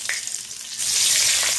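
Crushed garam masala, cumin and dried red chili hit hot oil left over from frying potatoes, a bright, dense sizzle that surges louder partway through and then holds steady, close and loud with no talking.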